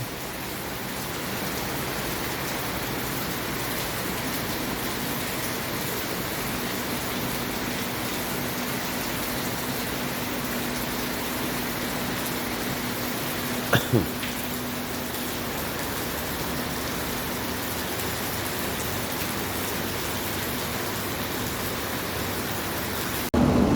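Heavy monsoon rain pouring steadily, a dense unbroken roar of falling water from start to finish, with one brief knock partway through and no voices.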